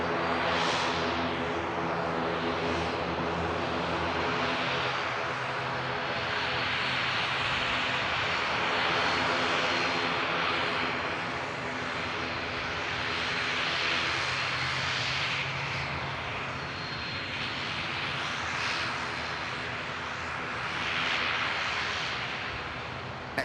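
A plane arriving at Manchester Airport on the Isle of Man flight gives a loud, continuous engine roar that stays steady and broad for over twenty seconds. It swells and eases slightly as it passes, with no talk.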